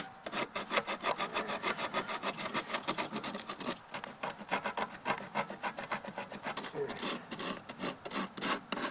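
Rough Bondo body filler on a Buick is sanded by hand, a steady run of fast, harsh back-and-forth scraping strokes, close and loud, with no talking.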